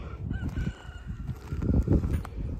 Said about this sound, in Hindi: मुर्गा कर रहा कुकड़ू को